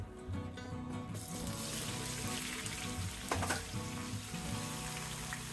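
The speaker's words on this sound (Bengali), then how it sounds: "মাছ ভাজা তেলে আমি পটলটা ভেজে নেব।" Pointed gourd fries in oil left over from frying katla fish, a steady close sizzle with a brief clatter of utensils in the middle.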